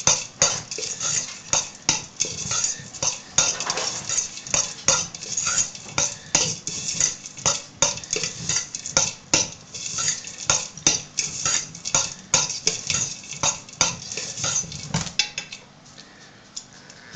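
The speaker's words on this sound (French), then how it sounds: "Il faut bien mélanger." A utensil scrapes and clinks steadily against a bowl while a recipe mixture is stirred well, a busy, continuous rhythm of taps and scrapes close up, ending abruptly near the end with quiet room noise.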